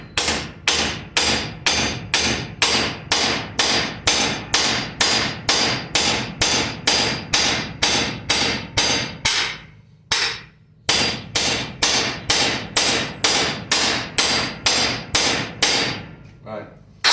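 Hammer blows strike a piece of quenched mystery steel from the forge, about thirty sharp, evenly spaced metallic whacks with one brief pause before the beating resumes, loud and close.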